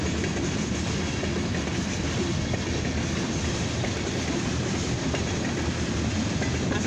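A long mixed freight train carrying steel rumbles steadily past nearby at a railroad crossing, wheels clacking and rattling over the rails in a continuous loud roar.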